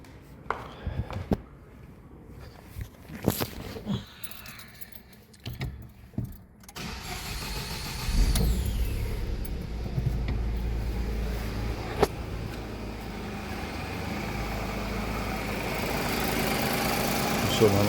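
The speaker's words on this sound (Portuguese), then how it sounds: "Agora a gente vai ligar o carro." A 2015 Ford Ka with a 1.0 engine cranks and starts about halfway through, then settles into a steady idle that continues to the end. Earlier there are clicks and handling noises, and a person speaks briefly.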